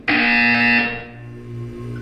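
A loud, harsh electronic buzzer from the video game Portal 2 sounds once, sustained for about a second and then fading into a lower lingering tone.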